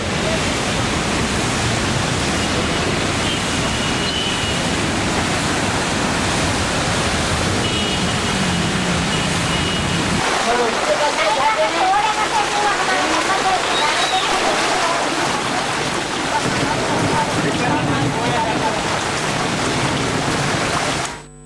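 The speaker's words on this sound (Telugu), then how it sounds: "భారీ వర్షం కురిసింది" Heavy rain pouring down in Hyderabad, a loud, dense and continuous hiss with a deep rumbling layer in the first half that thins out midway, and faint voices underneath.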